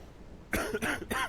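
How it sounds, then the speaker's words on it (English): Three short, harsh coughs from the video game Quarantine Zone: The Last Check, in quick succession after a half-second of near silence, fairly close and distinct. "Coughing."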